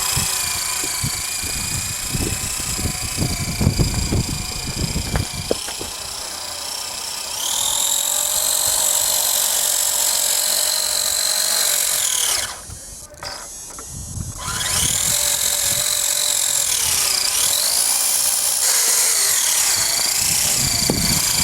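A homemade steel RC army truck's drivetrain whines and rattles steadily, with a high buzzing PTO vibration that rises and falls in pitch as it runs, briefly dropping near the middle before resuming, close and loud with no talk.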